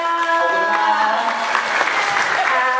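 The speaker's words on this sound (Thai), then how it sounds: "เลยขอเสียงปรบมือให้กับน้องเฟรมหน่อยค่ะ" Audience applause for Frame at a KachaFrame meet-and-greet fan event, dense steady clapping from a crowd, with faint tonal music or voices running underneath.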